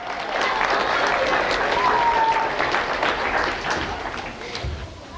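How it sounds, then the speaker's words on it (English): An audience applauds and cheers for a volunteer at a live stage performance, with loud sustained clapping from a crowd that slowly fades away. "Everyone, cheer for a volunteer."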